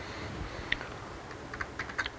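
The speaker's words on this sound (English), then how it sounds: "So I start typing in PH" Soft, sparse keystrokes on a computer keyboard during a client/server scripting lesson, a few light taps clustering toward the end over a quiet room hum.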